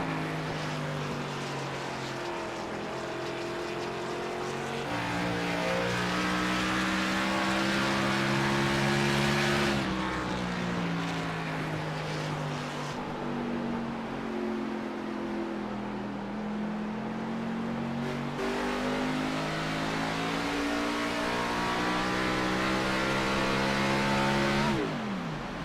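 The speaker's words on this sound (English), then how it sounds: "The 53 going into the corners, shutting the engine off, saving just that little bit of fuel" A race car in a racing video game drones through long engine notes that rise and fall, the engine cutting off abruptly into corners at about 10 and 18 seconds before revving back up.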